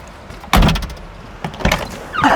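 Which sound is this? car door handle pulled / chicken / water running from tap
car door handle pulled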